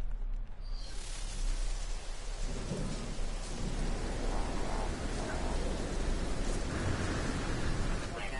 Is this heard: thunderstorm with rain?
yes